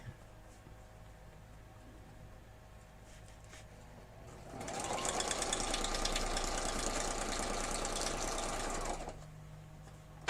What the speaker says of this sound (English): I'm fighting this sewing machine today.